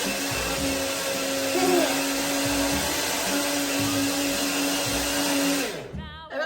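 A kitchen blender whirs continuously, blending banana with milk into a drink, a loud steady motor hum that cuts off near the end while voices talk faintly underneath.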